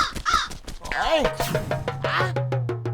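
Several harsh crow caws ring out over overlapping cartoon character talk, followed by a steady low hum and a run of sharp rhythmic clicks.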